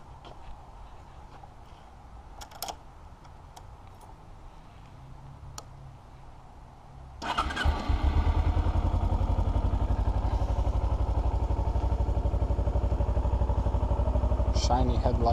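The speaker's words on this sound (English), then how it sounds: "Here's what it sounds like starting up." A 2008 Kawasaki Ninja 250R with stock exhaust starts up: a few quiet clicks and low ticking, then the engine catches at about seven seconds and settles into a loud, steady buzzing idle close by.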